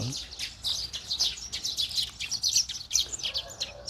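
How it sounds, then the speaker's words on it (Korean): Small birds chirp and twitter continuously in a garden, a busy overlapping chorus of high tweets at moderate distance with faint background ambience. "새들이 노래를 불러주고 있군요."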